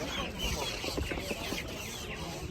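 Master Grey meat chickens clucking at a livestock market in Kolomyia, a few close clucks over a busy outdoor background of crowd murmur.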